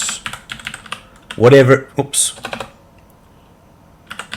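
Keystrokes on a computer keyboard while commands such as bold and bullet are typed into the Obsidian notes editor; scattered taps come under a voice, with a denser burst of speech mid-clip and quiet typing toward the end.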